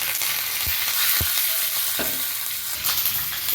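Vadagam and curry leaves sizzling in hot tempering oil, a loud continuous crackling hiss with a few sharper pops and stirring scrapes, heard up close without speech.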